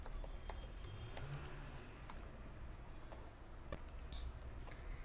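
Someone types a comment into an HTML file on a computer keyboard, producing quick irregular clicks and taps at close range over a quiet background hum.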